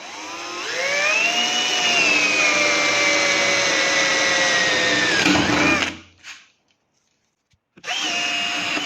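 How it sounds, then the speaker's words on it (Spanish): A power drill fitted with a 10 mm brad-point wood bit bores a centered hole in wood for a wooden kayak fitting, a loud steady whine for several seconds, stopping, then briefly starting again. "con una broca de madera de punto vamos a hacer una perforación lo más centrado posible"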